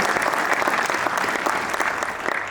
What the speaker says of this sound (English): So I want to give you a hand clap for that.